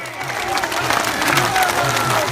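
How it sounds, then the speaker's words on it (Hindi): A large crowd at a Jat reservation protest sit-in in Charkhi Dadri claps steadily in a dense, continuous roar of applause, with voices mixed in underneath. "तालियों से स्वागत करो, तालियों से"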